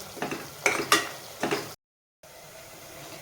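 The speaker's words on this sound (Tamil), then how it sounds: "நம்ம குக்கர் மூடியை திறந்து இந்த தக்காளியை நல்லா வதக்கணும்" A spatula scrapes and clatters against an open pressure cooker while tomatoes are sautéed, a few quick stirring strokes close by before the sound cuts off abruptly.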